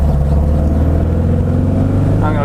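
A 1967 Porsche hotrod engine holds a loud, steady drone at about 4,000 RPM while the car is driven uphill. It is heard close and alone, with no break in the sound.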